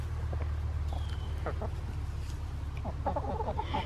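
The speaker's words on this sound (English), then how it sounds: "I love watching chickens" Backyard hens cluck and chatter in short, scattered calls over a steady low hum, fairly faint and close, with a few overlapping bursts toward the end.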